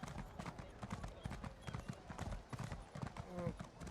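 Horse hooves clip-clop in The Elder Scrolls Online as a mount trots along, a steady rhythmic patter of beats under someone talking in Spanish, with game background sound around them.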